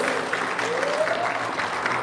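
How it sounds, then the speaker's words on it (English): Audience at a Guam Police Department promotion ceremony applauding a newly promoted sergeant, a steady continuous patter of many hands clapping at moderate loudness, with a faint voice rising briefly in the middle. "Let's give a round of applause to Sergeant Morgan D.M. Regis"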